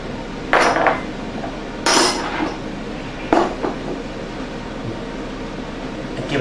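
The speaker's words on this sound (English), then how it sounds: "And give it a good mix." A utensil clinks and scrapes against a bowl while ham and egg pie filling with pepper and dried basil is mixed, a few sharp knocks spaced apart over a soft steady background.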